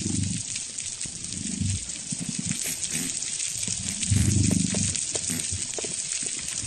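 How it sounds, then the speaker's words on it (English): Dense crackling and snapping hiss fills the background underwater on a coral reef, with low muffled grunts and thumps rising and falling throughout. "One potential navigational cue that they may use is the reef soundscape"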